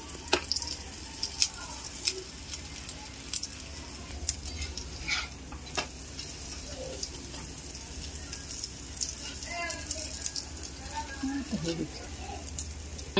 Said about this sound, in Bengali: পরোটা ভাজা হচ্ছে।